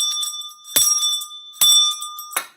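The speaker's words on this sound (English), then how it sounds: "I'm going to ring this bell 3 times" A hand bell struck three times in steady succession, each sharp clang ringing on with a sustained tone, loud and close with no talk over it.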